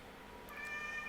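A cat meows faintly in a video game, a short tonal call rising over steady background music and ambience, heard alone without talk.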